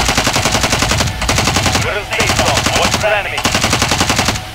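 Rapid bursts of automatic gunfire in Call of Duty Modern Warfare, loud and dense, broken into several long volleys with brief gaps between them.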